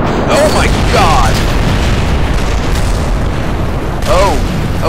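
A giant rocket blows up in the video game Kerbal Space Program, a loud, dense roar of explosion noise that fills the whole stretch, with an excited voice shouting over it.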